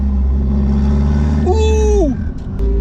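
A turbocharged Honda K24 swapped into an EG hatch roars steadily up close, then a sharp rising rev swells and falls away with a quick whoosh, loud and alone.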